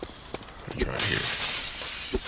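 In the DayZ video game, a hospital window smashes: a few light taps first, then a loud, dense burst of shattering glass that rings on for over a second, with no talk over it.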